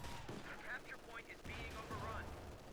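Tank cannon and gunfire in a Company of Heroes 2 battle, with a Sherman tank firing: continuous dense rattle of shots and bursts with a sharp boom near the start and another around midway, steady and loud throughout.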